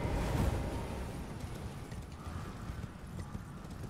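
Rapid galloping hoofbeats of a horse in the video game Elden Ring thud steadily over a dense, rumbling background, fairly loud and continuous for the whole stretch.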